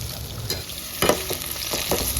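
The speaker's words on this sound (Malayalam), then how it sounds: "ഇനി നമുക്ക് ആദ്യം അരിഞ്ഞു വെച്ചാൽ ഉള്ളിയും പച്ചമുളകും ഇട്ട് വാട്ടാം" Chopped onion and green chilli sauté in hot oil in a pan for a sardine curry, making a close, continuous sizzle broken by a few scraping stirs.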